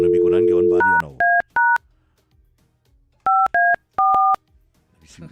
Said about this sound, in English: Let me call Subas.